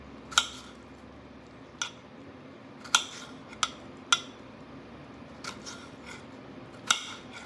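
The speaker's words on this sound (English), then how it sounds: "I'm gonna chop these kind of small pieces, okay?" Sharp knife strikes tap against a cutting board at an irregular, unhurried pace, each chop crisp and brief over a quiet room hiss.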